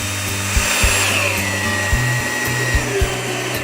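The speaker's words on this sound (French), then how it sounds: "elles rassemblent le bois au moment où on finit de visser" A power screwdriver drives screws into pallet-wood slats while building a bench, giving a steady motor whir with several short bursts and bumps as the screws bite and pull the wood tight. No voices are heard.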